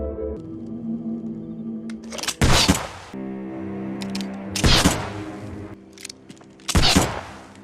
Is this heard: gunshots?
yes